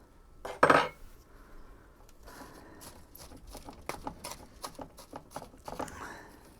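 A metal spoon scoops and scrapes soil into a pot while repotting a catalpa tree's roots, with a loud clatter at first and then a run of quick, close scraping and tapping strokes.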